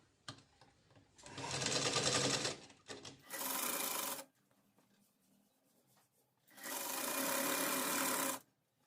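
A sewing machine stitches a lehenga flare onto its lining in three separate runs, two longer bursts and a shorter one between, each a close, whirring rattle with quiet pauses of fabric handling in between.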